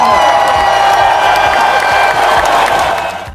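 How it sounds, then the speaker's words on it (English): Loud, dense applause and cheering from a crowd of children and adults at a school celebration assembly, with whoops rising over steady clapping that carries through the whole stretch before tapering off at the end. "Let's give her a big Newton. Round of applause!"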